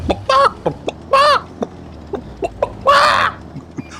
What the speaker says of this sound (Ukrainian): Це такі гарні тваринки, вони так гарно кудахчуть.